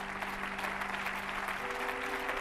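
Church congregation applauding in a dense, steady wash of clapping that continues evenly throughout, fairly distant in a large room.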